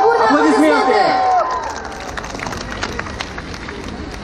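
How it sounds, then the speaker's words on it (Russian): A crowd at an outdoor concert on Poklonnaya Hill, Moscow, applauds loudly as a singing voice fades out, the clapping continuing as a dense, steady patter. "Ваши бурные аплодисменты!"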